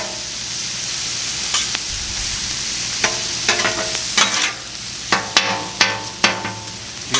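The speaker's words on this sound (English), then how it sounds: "Give these onions a little more of a toss here" Onions for Philly cheesesteak fry on a Blackstone griddle, a loud steady sizzle with a run of sharp spatula scrapes and clacks as they are tossed, growing more frequent toward the end, with no talk.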